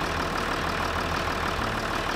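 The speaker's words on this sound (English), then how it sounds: "Hopefully you can hear the engine ticking over" A car engine ticks over at idle, picked up on a camera's built-in mic with no external microphone: a steady, even mechanical hum with a low rumble, holding at the same level throughout with no voices.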